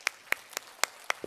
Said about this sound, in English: let's give our Lord our biggest clap offering